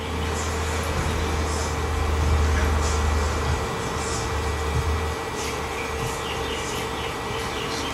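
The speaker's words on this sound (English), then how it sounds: "Standby sound is the sound of the fans in each server chassis." Cooling fans in server chassis, including a DL380, idle in standby, giving a constant, fairly loud broadband whir with a steady tonal hum and no pauses.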